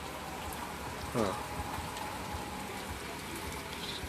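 Steady rain on a rainy day pours down in a constant nearby hiss, with a short spoken interjection in the middle.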